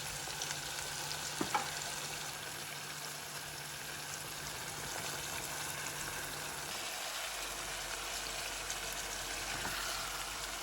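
Chicken pieces fry in sunflower oil, a soft, steady sizzle at low level with a couple of brief clinks early on, heard alone without voices.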